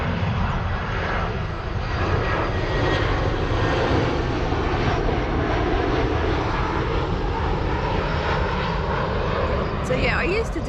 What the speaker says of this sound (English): It's an aeroplane. Still really near the airport.